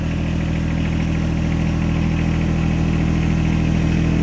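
A tractor engine runs at a steady, loud idle with a deep continuous rumble while its loader is detached using the joystick, with no voices.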